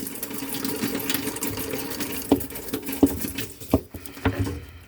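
Water running from a newly installed kitchen faucet, a continuous splashing patter into the sink with a few sharp clinks and knocks of metal over it, close and moderately loud; no talking.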